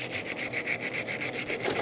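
Rhythmic back-and-forth abrasive scrubbing as rust and corrosion are worked off a Ford E-350 Super Duty front brake caliper bracket, about eight even strokes, close and steady with no talk.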